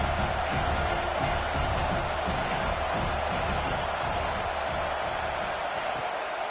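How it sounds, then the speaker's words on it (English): Alabama Crimson Tide home crowd at Saban Field roaring on a third-down play, a steady dense wall of stadium noise that stays loud throughout with no clear breaks. "The Tide crowd rolling noise down onto Saban Field on third down"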